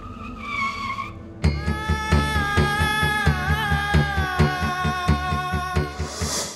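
A car skids hard to a stop, with a sustained, loud tire squeal wavering over a low engine rumble for several seconds after a brief lead-in, close by.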